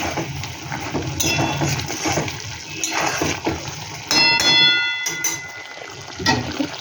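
A metal lid is set onto a cooking pot of vegetarian cauliflower rosha, giving a few bright ringing clinks and clangs over soft kitchen background noise.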